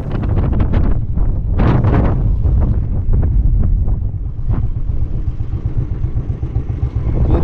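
Strong wind buffets the microphone at a desert cliff edge near Riyadh, a loud, continuous low roar with gusty bursts and flapping rustles.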